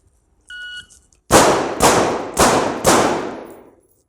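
Close-quarters battle shooting drill: a short electronic timer beep, then four sharp, loud gunshots in quick even succession, each ringing out briefly.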